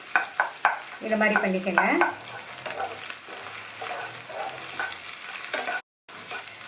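Scrambled egg frying in a pan and broken up with a ladle for egg fried rice, a steady sizzle with scraping stirs, while someone speaks briefly over it.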